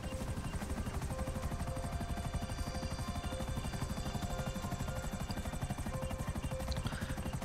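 Helicopter rotor in GTA 5 Online, a steady, loud, rapid chopping thrum running throughout with a constant engine whine and no talk.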